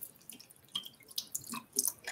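Water drips in small, irregular taps while a Japanese makeup brush is rinsed, with several quiet, close splashes spread unevenly over two seconds.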